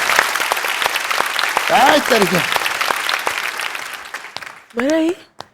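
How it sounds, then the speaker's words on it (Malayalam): Audience clapping at a Malayali magic show, a broad steady wash of applause running for several seconds, with a few brief voice fragments over it before it thins out near the end. "എല്ലാവരും ഒന്ന് കൈ അടിക്കണം"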